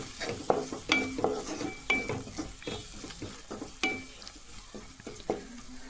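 Garam masala, chilli powder and spices fry in oil in a pan for dal fry, a soft sizzle under irregular spatula scrapes and light metallic clinks against the pot.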